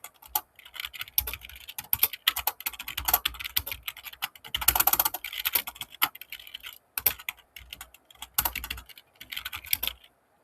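Computer keyboard typing while entering code, a brisk, irregular run of close clicks and key taps with short pauses and a dense flurry midway, no talking.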